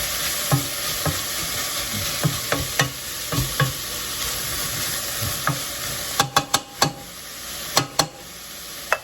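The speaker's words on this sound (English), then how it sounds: "Mix it." Vegetables frying in olive oil for a Greek vegetarian moussaka are stirred in a pan, with steady sizzling under repeated sharp scrapes and clacks of the spoon that grow busier toward the end; no talking.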